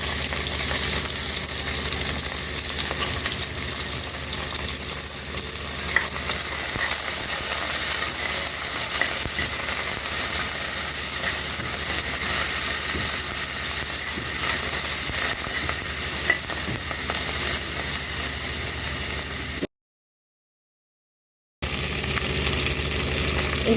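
Chopped large onions and coriander frying in a pot for country chicken biryani give a loud, continuous sizzle and hiss that holds steady throughout, with a brief gap near the end and no talking.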